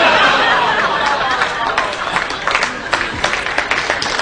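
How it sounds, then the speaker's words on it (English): A comedy audience at a corporate show reacts with scattered groans and murmuring, giving way to light, uneven clapping. "Some groan, some applause."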